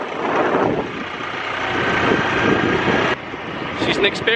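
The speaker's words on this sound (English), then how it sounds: "Let the speed demon loose on the moped." A moped ridden along roads on Phu Quoc island, Vietnam, gives a steady, close engine drone blended with loud wind rush, dipping briefly in level near the end.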